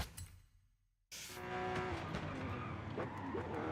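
A Ferrari in Forza Horizon 5 brakes hard after a brief near-silent gap, with loud engine roar and tire skidding that build and hold steady, close and continuous.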